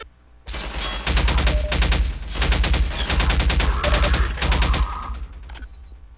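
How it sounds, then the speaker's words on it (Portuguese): Gunfire in Half-Life 2: long bursts of close, loud automatic shots in several volleys, broken by short pauses and fading toward the end. "Tem alguém atirando em mim, cara."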